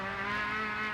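Greg Hansford's ANZ touring car slides sideways at Lakeside in 1989, giving a loud, sustained tonal whine of engine and tyres that holds steady over one brief second, with no voices.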